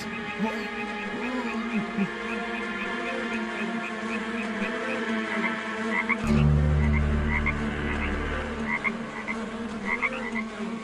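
A chorus of frogs croaks steadily in rhythmic pulses, with a low rumbling noise swelling partway through.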